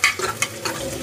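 Onion browning in a pan crackles and sizzles as a spoon scrapes through it in several quick, close strokes.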